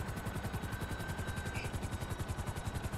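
A helicopter in the video game GTA V Online throbs with a rapid, even rotor beat, holding steady and fairly close with no talk.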